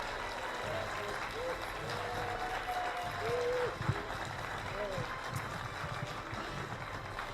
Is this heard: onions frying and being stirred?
no